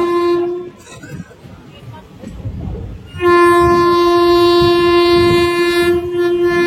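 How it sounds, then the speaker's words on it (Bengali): A passenger train crosses the Rupnarayan river bridge: a short horn note, a stretch of rumbling wheels, then a loud, steady horn blast held close by for several seconds. "ট্রেন কিন্তু আমাদের রূপনারায়ণপুর নদী পার করে গেল"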